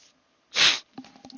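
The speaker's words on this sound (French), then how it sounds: "je suis désolé si vous m'entendez un petit peu renifler" A person with a cold gives a single sharp, breathy sniff close to the microphone, followed by faint small mouth and breath noises in a quiet room.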